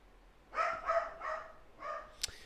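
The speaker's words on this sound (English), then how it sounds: "I think he was outside the door when he started barking." A dog barks four or five times in a quick uneven run from just outside a door, sharp and moderately loud against a quiet room, with a short snap of noise at the end.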